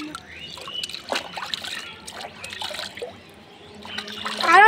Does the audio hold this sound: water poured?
yes